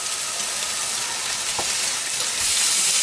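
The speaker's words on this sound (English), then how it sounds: "Starting to sear." Pork chops for a cherry balsamic dish sear in a hot pan, giving a steady, close sizzle and crackle that holds evenly throughout with no talking.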